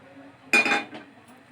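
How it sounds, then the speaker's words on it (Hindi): A metal pan is set down on a kitchen stove with a single short clanking knock and brief metallic ring in an otherwise quiet room. "पैन चूल्हे पर चढ़ा लेंगे।"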